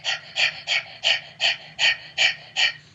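Eight quick, rhythmic breathy huffs in steady succession, a voice imitating a panting dog.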